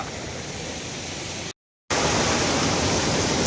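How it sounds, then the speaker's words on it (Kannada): Hogenakkal waterfall roaring, a broad unbroken wash of rushing water heard up close and loud, cut by a brief silent gap before resuming even louder. "ಇದುವೆ ಇದುವೇ ಜಲಪಾತ"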